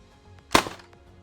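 A Nerf Fortnite BASR-L bolt-action blaster fires once, a single sharp, close pop with a short rattling tail, alone in a quiet room.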